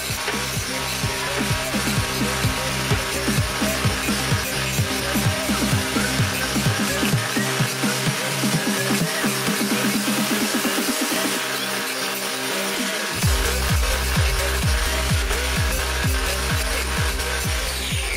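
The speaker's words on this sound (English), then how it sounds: "Just clean them up a bit with a grinder" A grinder cleaning up lengths of steel box section for a plasma table build, a loud sustained rasping grind with rhythmic pulses, briefly easing off in the middle before resuming at full strength.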